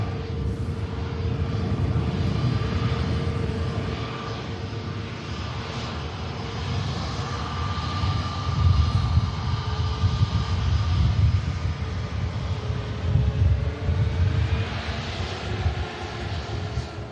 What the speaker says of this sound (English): On the ATR, already on the roll, should get up pretty early